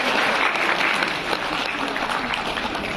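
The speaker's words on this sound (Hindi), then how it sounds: "इसलिए तालियां बजाओ" An audience claps steadily at a spiritual talk on Shivaratri, with dense, even applause filling the space continuously at a fairly loud level.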